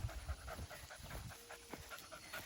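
A Great Pyrenees puppy pants close by on a farm during outdoor chores, giving quick rhythmic breaths that repeat steadily throughout with no talking.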